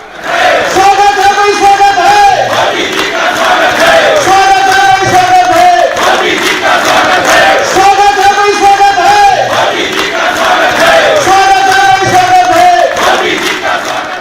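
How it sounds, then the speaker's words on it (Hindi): MPs at a BJP parliamentary party meeting stand, clap and chant slogans to welcome Prime Minister Narendra Modi. A loud crowd chants in a steady, repeating cadence that rises and falls in regular cycles, with clapping mixed in throughout. "सांसदों ने खड़े होकर ताली बजाकर नारे लगाकर वेलकम किया"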